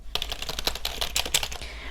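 Loud, clacky typing on a cheap entry-level Logitech wireless keyboard, a fast run of close, hard keystrokes in an uneven rhythm, heard alone without talk.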